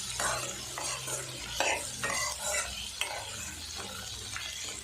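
Tomatoes sautéing in a pan for a spicy mustard-tomato chutney, with a steady sizzle under repeated scraping stirs of a spoon against the pan, several bursts of stirring spread across the stretch, no voices.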